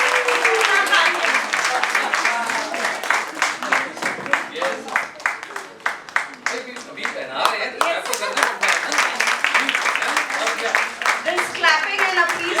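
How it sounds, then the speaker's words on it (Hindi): An audience claps at a book launch celebration, dense sustained applause filling the room from start to finish, with voices talking and calling out over it. "This clapping and appreciation goes a long way, so please keep clapping."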